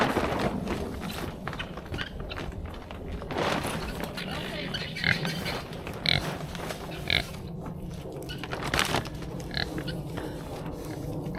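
Pigs grunt and oink in scattered bursts around a chicken coop being winterized, the snorts close and rough amid shuffling and outdoor noise, with people talking over them.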